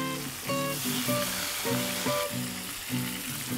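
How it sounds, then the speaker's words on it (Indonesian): Tofu sizzles steadily in hot oil, a bright continuous crackle with a tonal hum pulsing in the background. "kita sudah mulai menggoreng ya sahabat ya"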